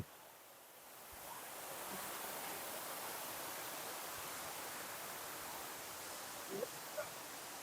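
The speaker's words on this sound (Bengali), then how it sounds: "This is the top of মৃদুবন্ধা waterfall. এইটা বর্ডার, আমি এখান থেকে জলটা আসছে" Water rushing steadily over the top edge of Mrudubandha waterfall near Daringbadi, a broad continuous roar that swells after the first second and holds even, with a couple of faint brief knocks near the end.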